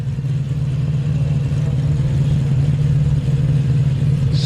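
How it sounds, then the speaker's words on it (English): A 4WD engine revs hard and holds high while its tyres spin for grip on big rocks at a rock-crawling competition, a loud, steady roar with no talking. "Smoking the tyres as he tries to find traction"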